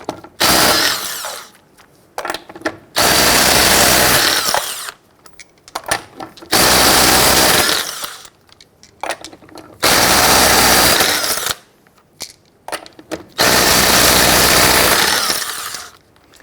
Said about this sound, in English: Using your 19mm socket, loosen and remove your lug nuts.